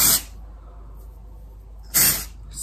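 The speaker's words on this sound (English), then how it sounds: "spray this in" Volume blast hair spray from an aerosol can during hair styling, with two short close hissing bursts about two seconds apart and quiet between them.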